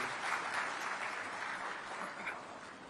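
Applause from an audience at a state award ceremony, a steady faint wash of many hands clapping, distant and sustained for a few seconds.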